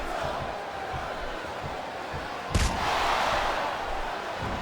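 A roaring arena crowd in a WWE wrestling video game match between Ric Flair and Carlito, a dense continuous wash of cheering with a sharp slam-like impact midway, after which the noise swells slightly.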